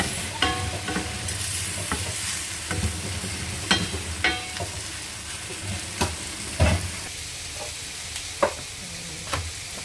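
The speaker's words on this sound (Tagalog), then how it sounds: "nagisa na yung kamatis" Tomatoes sauté in a pan for Ilocano pakbet, a continuous crackling sizzle punctuated by sharp, irregular clacks of a utensil stirring against the pan, close and fairly loud with no talking.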